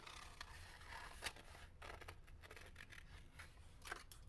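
Scissors snip a piece out of a plastic code card for an HPC 1200 Blitz key machine, several close, quiet cuts with a faint scrape, irregularly spaced and heard alone.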